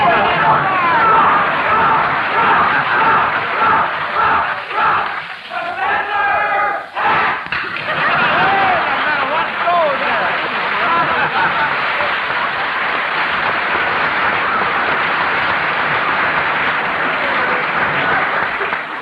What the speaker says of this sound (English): Sounds like the professors have brought their own cheering section